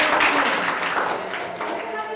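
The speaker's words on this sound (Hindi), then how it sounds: "सब लोग तालियां बजाएंगे इसके लिए।" An audience claps at a school field gathering in Odisha, producing a dense patter of hand claps that is loudest at the start and gradually thins out.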